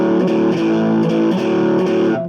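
Essential blues riff on electric guitar with distortion, a loud repeating pattern of picked notes with rhythmic string attacks every half second or so, played alone.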